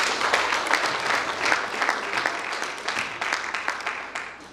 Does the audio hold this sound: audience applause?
yes